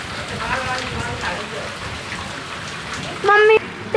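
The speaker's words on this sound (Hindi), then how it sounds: "मम्मी तेज बारिश" Heavy rain in Delhi pours steadily as a dense, even hiss, with a short high-pitched tonal sound cutting in near the end and faint voices underneath.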